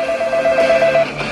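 A telephone rings loudly and alone in a short burst, a steady electronic ring tone without pause.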